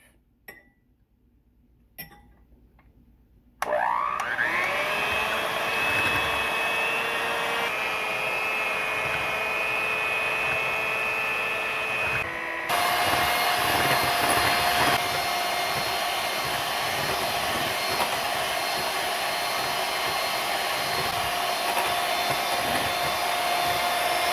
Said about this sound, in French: Maintenant, je vais utiliser un batteur pour monter le blanc d'œuf.